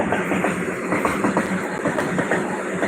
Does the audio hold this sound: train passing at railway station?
yes